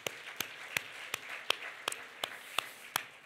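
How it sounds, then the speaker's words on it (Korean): A church congregation claps together during a Korean Sunday festival worship service, producing evenly spaced, sharp claps about three per second in a quiet, reverberant room. "하나님께 박수 영광 드리겠습니다"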